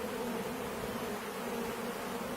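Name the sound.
honey bees buzzing after being poured into hive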